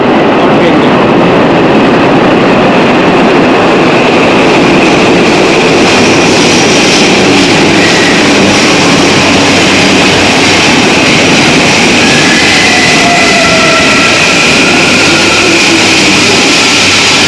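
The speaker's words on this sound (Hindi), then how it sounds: "और ट्रेन टाइम देखो और ट्रेन देखो।" A train rumbles loudly and continuously through the station at Narita Airport in Tokyo around 5:30 in the morning, with a steady heavy roar of wheels and engine filling the whole stretch, close by and with no talking.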